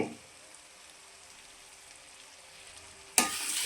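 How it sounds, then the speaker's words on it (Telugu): Brinjal pieces frying in oil with turmeric give a faint, steady crackling sizzle, then a sudden loud burst of spitting hiss near the end. "ఈ వంకాయ ముక్కలు ఈ నూనెలో బాగా మగ్గనివ్వాలి"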